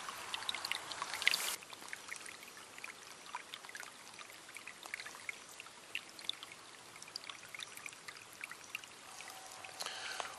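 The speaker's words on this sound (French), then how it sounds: "Et là on a du goutte à goutte." River water drips and trickles through a cloth filter, giving faint, scattered droplets and a soft pouring trickle that continue quietly on their own, with a brief louder splash near the start.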